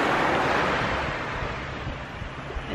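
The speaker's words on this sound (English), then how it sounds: "listen to the waves" Ocean waves wash onto a Maui beach in a broad, continuous roar, heavily mixed with wind buffeting the microphone, with no voices.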